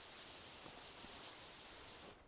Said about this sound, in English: I'm just spraying from over here because it looked like a few of these still had stuff